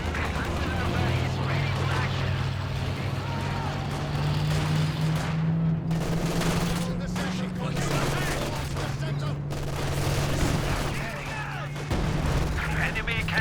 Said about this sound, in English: That was this barrage looking to clear out the center.